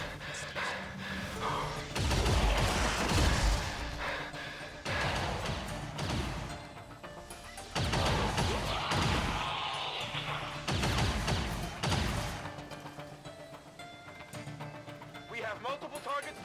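Bursts of rapid gunfire from the rogue's Blaze of Glory ability in XCOM 2, firing at every visible target in turn, come as several loud, separate volleys with short pauses between them.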